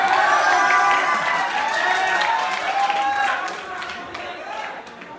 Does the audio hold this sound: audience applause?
yes